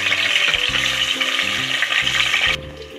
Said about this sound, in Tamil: பன்னீர் நல்லா பொரிஞ்சிருச்சு